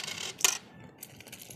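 Stainless steel coins are handled, giving a few sharp metallic clinks, one bright chime near the start and lighter taps afterward, close and quiet.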